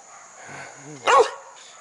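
A single short dog bark, near and fairly loud, preceded by faint soft vocal sounds.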